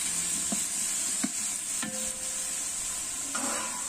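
Ginger and garlic paste, ground separately, sautéing together in a large pot for a 5 kg Vaniyambadi-style chicken gravy: a steady close sizzle with a few soft scrapes of a spoon stirring through it, no voices.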